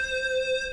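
A loud synth lead from a home music production rings out as one brief, bright sustained note rich in even overtones, alone and without talk.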